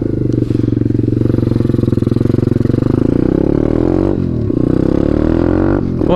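Chinese pit bike engine with a new air filter running continuously close by, a loud throbbing putter with a couple of brief throttle dips and recoveries.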